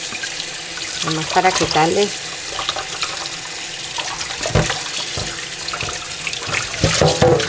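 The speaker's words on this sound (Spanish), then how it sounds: "a lavar con agua fría." Cold tap water runs steadily into a kitchen sink while pieces of beef are rinsed under it, splashing and gurgling as someone speaks Spanish over the flow.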